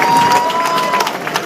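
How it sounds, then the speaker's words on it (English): An audience cheering loudly at a live performance, a short sustained burst of crowd noise with scattered shouts. "Can we hear a loud cheer?"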